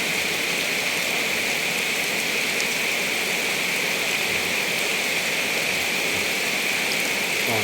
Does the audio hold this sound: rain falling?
yes